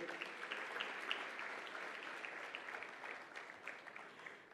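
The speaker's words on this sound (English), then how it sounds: "Another round of applause, ladies and gentlemen." Sustained applause from a sizable audience, dense clapping holding steady and tapering slightly at the end.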